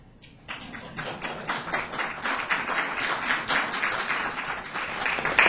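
An audience at a lecture on the U.S. government after 9/11 gives a round of applause, many hands clapping that starts thin and swells into a dense, steady ovation over several seconds.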